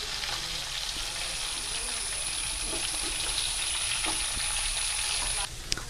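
Chicken fries in hot oil with a steady, close bubbling sizzle, a faint high whine running through it until it cuts off near the end, followed by a small clatter.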